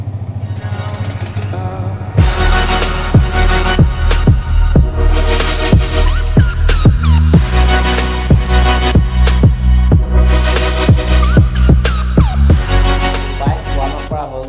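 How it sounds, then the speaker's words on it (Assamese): A motorcycle engine turns over and catches, then idles loudly and steadily up close with a rhythmic chugging and some clattering. "চ' এতিয়া বাইকখন ষ্টাৰ্ট কৰি লওঁ"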